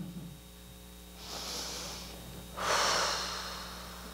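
A group of people at a panel discussion breathing together audibly: two slow, airy inhale-exhale swells, soft and diffuse as from a room, with no talking.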